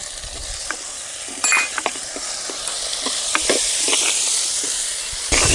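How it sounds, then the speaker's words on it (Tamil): Steady frying sizzle of chopped tomatoes in a pan for sambar, with intermittent clicks and scrapes of stirring, close and continuous, no voices. "நல்லா தக்காளி பழம் வதங்கிடுச்சு"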